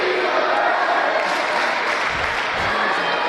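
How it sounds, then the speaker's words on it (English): A high school student section cheering at a girls volleyball sectional semi-final in a gym, a loud sustained roar of crowd noise and applause filling the whole stretch, with talk mixed in. "And our student section is cheering for Ellie Burzloff right now."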